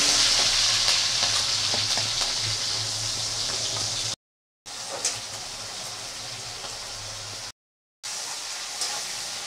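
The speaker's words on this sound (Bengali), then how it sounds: "চিংড়ি মাছগুলোকে ভেজে নেব।" Prawns fry in a pan with a steady, close sizzle of hot oil that carries on without a break, broken only by two brief silent cuts.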